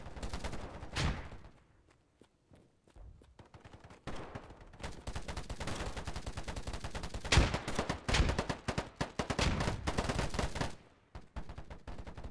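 Gunfire in the shooter video game POLYGON: a pause with sparse single shots, then long loud bursts of rapid automatic fire, close and harsh, broken by brief gaps before trailing off.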